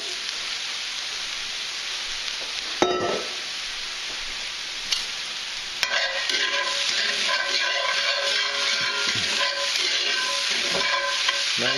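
Spinach with white wine frying and sizzling in a Himalayan salt block pan, a steady close crackle with a few stirring scrapes and clinks, louder and busier in the second half, no voices.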